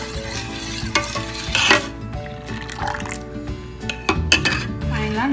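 A spoon stirs sugar into pink rose milk until it dissolves, giving soft liquid swirls and repeated light clinks against the vessel, with scattered louder taps among them.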